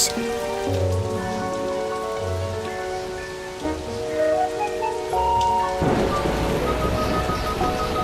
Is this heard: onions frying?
no